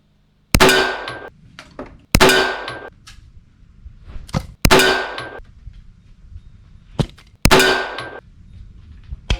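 Four sharp, loud reports from a suppressed Rock Island 1911 in .45 ACP, heard from downrange, each a crisp crack with a ringing tail, spaced a couple of seconds apart with faint impacts between.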